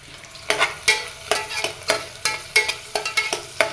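Large chopped onions sauté in hot oil, sizzling steadily under a quick, regular series of sharp stirring scrapes from a spatула against the pan.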